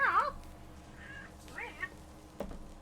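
A cat meows a few times, short rising cries spaced apart, close by in a quiet room, with a faint soft voice in between.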